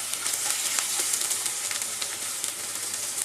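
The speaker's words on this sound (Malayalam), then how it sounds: "ഇതൊന്ന് എണ്ണയിൽ കിടന്ന് നന്നായിട്ടൊന്ന് മൂത്ത് വരണം." Sliced onion with green chilli and curry leaves fries in hot oil, giving a close, steady bright sizzle and crackle with small popping spikes, no voices.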